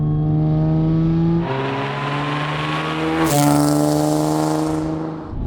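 A B8-generation Audi S4 engine pulls hard under acceleration on a greasy road, its loud, steady drone rising in pitch through one gear, then dropping briefly at a shift before climbing again, with no talking over it.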